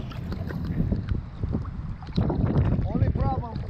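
Wind buffets a microphone on a small fishing boat in the rain, a steady rushing roar with water sounds beneath and a voice briefly speaking near the end.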